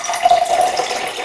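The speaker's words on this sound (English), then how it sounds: "We're going to drain this one out." Kangen water at pH 11.5 drains out of a bowl of tomatoes, a steady close splashing pour into a sink with no voices.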